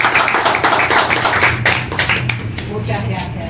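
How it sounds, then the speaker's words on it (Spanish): Audience applause at a book talk by a local writer in Escalada, a burst of close, brisk clapping from a small room that thins toward the end, with a voice speaking over it. "un aplauso para..."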